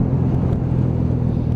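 A Lexmoto ZSX-F 125cc motorcycle engine rumbles steadily up close, a low, even drone with no talking.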